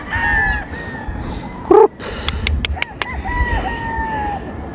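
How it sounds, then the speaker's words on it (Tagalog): A Papay Gray brood stag rooster crows twice, close and loud, with a long drawn-out call at the start and another near the end, over faint background noise and a few short clucks between. "Ito po ay brood stag."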